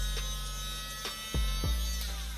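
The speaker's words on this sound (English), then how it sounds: "And this is pretty much a hookah starter." An electric hookah coal starter runs with a steady, close mechanical buzz and hum. A few brief clicks and bumps sound as it is handled.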